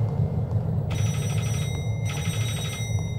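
An in-game telephone in Rewind Or Die rings in two bursts of trilling electronic bells over a steady low hum, with a pause between the rings.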